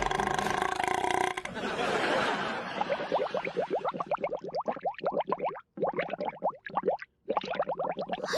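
A long, loud, drawn-out burp in a comedy sitcom scene, a rapid rattling series of croaky pulses that stutters and breaks off briefly near the end, after a short stretch of noisy background.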